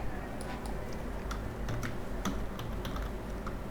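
Keys clatter on a computer keyboard as a password is typed, a quiet run of irregular clicks over a low steady background hum.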